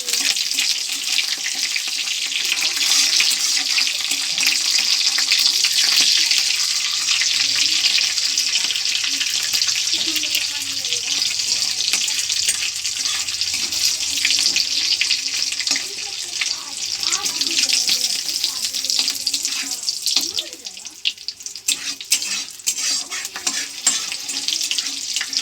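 Nigella seeds, bay leaf and green chili are tempered in hot oil for a bean, potato, carrot and cauliflower vegetable curry. A bright, steady hiss of sizzling lasts throughout, with a few clinks near the end.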